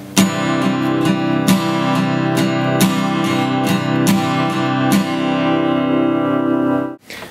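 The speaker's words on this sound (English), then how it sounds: "So it's six down strums broken into two threes, and it sounds like this." Acoustic guitar for a lesson, strummed with steady down strums in two groups of three, each chord stroke ringing loudly into the next before the sound cuts off at the end.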